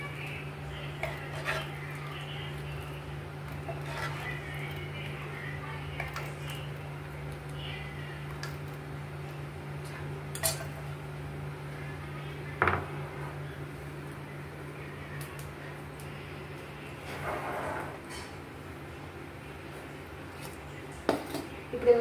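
A home kitchen during chaat preparation, with scattered metallic clinks and knocks of pots and utensils as the mixture is moved into a bowl, over a constant low hum with brief sharper taps.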